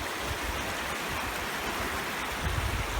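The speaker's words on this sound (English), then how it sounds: "this is Bright Angel Creek" Continuous rushing and burbling of Bright Angel Creek in the Grand Canyon flowing nearby, steady and fairly loud with no voices.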